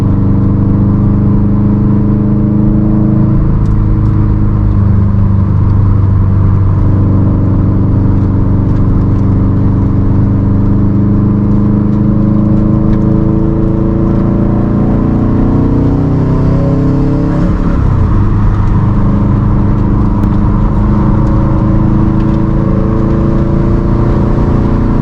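A 500 hp Subaru WRX STI running on E85 idles and creeps in traffic, its engine a loud, steady droning hum with slowly shifting tones and a brief rev swell midway, close and continuous with no talking.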